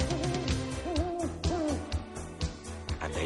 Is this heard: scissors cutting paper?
no